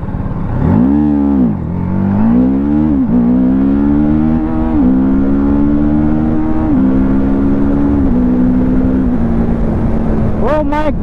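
A TVS Apache 310 motorcycle accelerates hard from a standstill to 60, its loud, close engine note climbing and dropping through several quick gear changes in one continuous pull.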